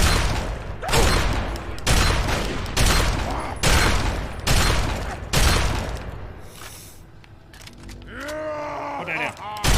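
A combat shotgun fires repeatedly in Fallout 3, several loud, booming blasts spaced about a second apart, up close and dominant, with a grunting voice and game effects near the end.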